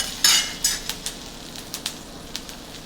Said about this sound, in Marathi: ह्याच्यात मी कांदा, पांढरे तीळ भाजून घेते